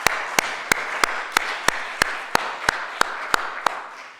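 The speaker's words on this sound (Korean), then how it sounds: "정말 우리 박수 한번 하십시다." A church congregation claps together in slow unison, about a dozen evenly spaced sharp claps over a soft background of room noise, steady and rhythmic without speech.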